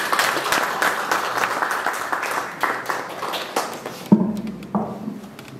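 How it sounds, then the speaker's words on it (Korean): Audience at a Korean church missions lecture and pastors' seminar clapping to welcome a speaker: a burst of crowd applause that fades out after about four seconds, followed by a few scattered claps and light room noise. "여러분 박수로 환영해 주시기 바랍니다"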